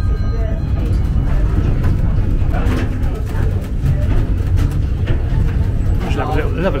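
A steam train at the Bressingham steam museum rumbles along in a steady, loud, dense roar, with faint background voices mixed into the ride noise.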